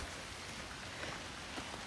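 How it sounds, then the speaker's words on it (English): Steady rain falls in a quiet outdoor setting, a soft continuous patter with occasional louder drops, faint and unbroken. "Let there be rain."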